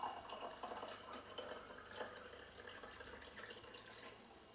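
Water trickles steadily from the bottom tap of a three-stage ceramic, carbon and silver nitrate filter tank, a faint continuous splashing stream with no voices.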